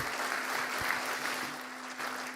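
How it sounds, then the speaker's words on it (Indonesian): Applause from an audience at a university doctoral graduation ceremony, honoring Megawati Soekarnoputri; steady, dense clapping fills the whole stretch at moderate distance, with a low hum underneath. "kita berikan tepuk tangan yang meriah buat beliau."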